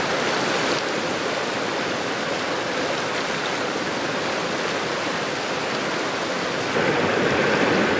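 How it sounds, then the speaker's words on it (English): A high, fast-running river in the Canadian Rockies rushes in a steady, dense wash of water noise that holds even and close throughout, swelling slightly louder near the end. "The river is pretty high right now, so it's hard to get to the good spots."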